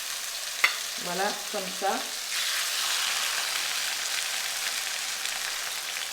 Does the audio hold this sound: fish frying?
yes